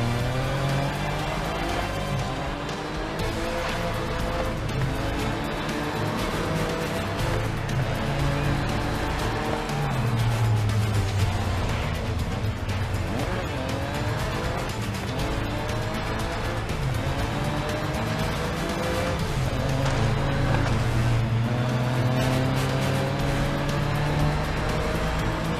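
Race car in GRID Legends driving continuously, engine note rising and falling as it brakes and accelerates, with a steady loud roar and faint tire noise throughout.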